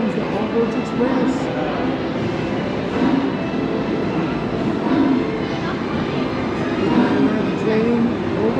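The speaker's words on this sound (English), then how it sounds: "Here it comes, the Hogwarts Express." A Hogwarts Express ride train arrives at a Universal Studios station, its steady rumble and rolling noise filling the clip loudly and continuously, with people talking over it.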